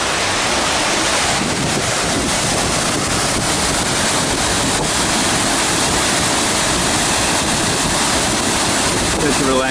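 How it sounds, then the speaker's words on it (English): A waterfall near the Canada and the World Pavilion roars as a steady, loud, unbroken wash of water noise, with some wind buffeting the microphone throughout. "Here's the falls."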